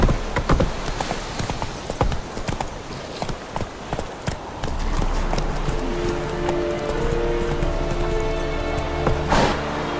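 A horse gallops in The Witcher 3 video game, its hooves beating a steady, quick clip-clop rhythm up close, joined midway by a low continuous rumble of ambient game sound, with no talking.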